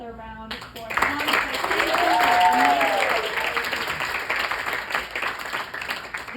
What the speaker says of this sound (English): And while we're applauding, can we give Jess and Colette another round